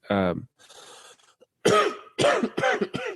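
A short voiced sound, then a burst of several harsh, close coughs in quick succession, loud and raspy.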